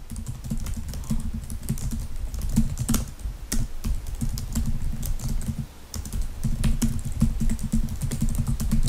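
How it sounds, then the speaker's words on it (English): A message being typed on a computer keyboard, with steady rapid clicking of keys close by and brief pauses between bursts of typing. "So just type in your response over here"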